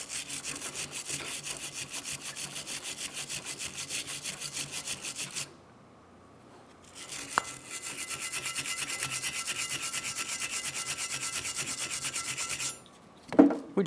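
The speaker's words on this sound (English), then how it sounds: "You can use a wire brush." A wire brush scrubs the rear brake caliper bracket of a 2011-2021 Jeep Grand Cherokee in fast, steady back-and-forth rasping strokes, close and loud, pausing briefly midway before resuming, then a clunk at the end.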